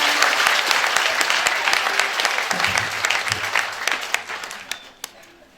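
A church congregation breaks into sustained, loud applause to acclaim the Lord during a women's memorial celebration, the clapping dense and enveloping before thinning out toward the end into a few scattered claps.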